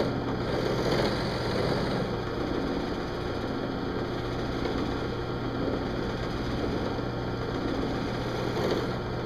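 A steady drill press motor hum runs continuously without a break, a droning machine whirring at constant speed nearby, with no voices.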